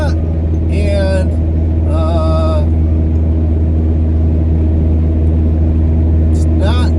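A car engine labours steadily up a hill in fourth gear as a low, constant droning rumble close by, while someone talks over it.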